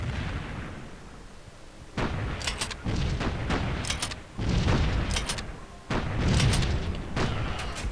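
Explosions as units are blown up in the strategy game Civilization III, during a World War 2 siege of Moscow: several loud, booming blasts arrive in separate bursts over a low rumbling background, with no talking.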